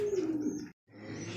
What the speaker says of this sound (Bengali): সুপ্রিয় দর্শক দেখতে পাচ্ছি এখানে আরো একজোড়া কবুতর